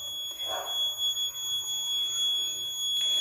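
A steady high-pitched electronic buzzer tone from an obstacle-sensor alert on a Raspberry Pi Pico circuit sounds continuously, with a second tone joining near the end, over faint background noise.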